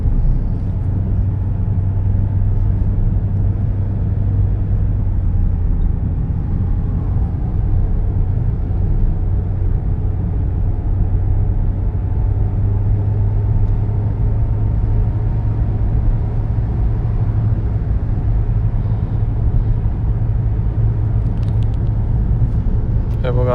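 A car drives along a rural Australian road through bushland, a steady low rumble of engine and tyre noise heard from inside the cabin, constant and fairly loud throughout.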